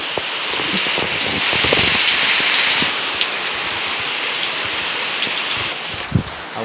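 Heavy rain pours down in a dense, loud, continuous hiss of drops hitting surfaces, with a few close individual splats and a brief thump near the end.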